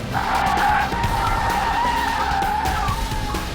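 An electric Mercedes SLS AMG corners hard with its tires skidding, giving a loud, sustained squeal that holds steady for several seconds over the hum of the car.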